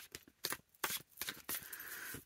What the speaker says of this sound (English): I'm getting too excited when shuffling.